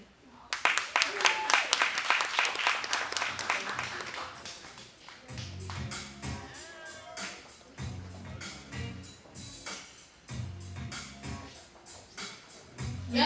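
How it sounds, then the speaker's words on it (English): Audience applause at an awards event for women, a burst of clapping that starts loud and fades over about four seconds, followed by a speaker talking with music playing underneath. "Y'all clap it up for her."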